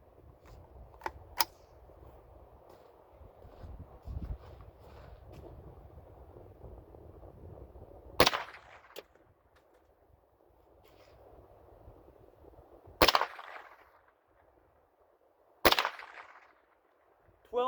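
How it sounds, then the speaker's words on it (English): .22 Remington Thunderbolt rimfire rounds are fired over a chronograph outdoors. Several sharp, loud cracks come seconds apart over low ambient noise. "We'll fire 3 shots over the chronograph of each type of ammunition and see what we get."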